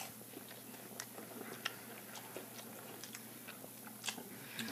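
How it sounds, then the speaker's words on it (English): Someone chewing a bite of apple topped with barbecue sauce, with faint, irregular soft crunches and mouth noises close up, no talking over it. "Chewing on it."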